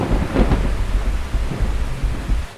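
Heavy monsoon rain in India: a steady hiss of downpour runs under deep rolling thunder rumbles that swell and fade, close and loud, with no voices.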